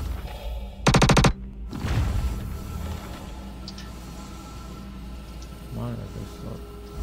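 A short rapid burst of automatic gunfire in Star Citizen, a tight rattle of about a dozen shots lasting under half a second, followed by low rumbling and a faint voice.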